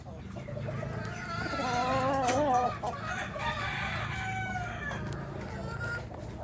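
Gamecocks (fighting chickens) cluck and a rooster gives a short crowing call nearby, with faint background noise throughout.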